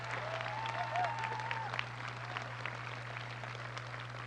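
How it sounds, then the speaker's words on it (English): Steady applause from a high school commencement audience, sustained clapping at moderate distance with a low hum underneath. "let's give them a round of applause"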